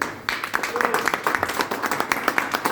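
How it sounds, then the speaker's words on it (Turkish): People clapping at a hunger strike solidarity gathering in Belgium, a short spell of scattered, close hand claps from a small group with talk overlapping. "Alkışlıyorum."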